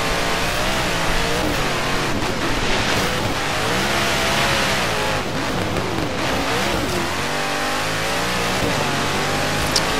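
A pickup truck's engine revs hard and continuously while drifting across a snowy mountain course in Forza Horizon 3, loud and steady for the whole stretch with surging pitch and a rushing undertone, no voices.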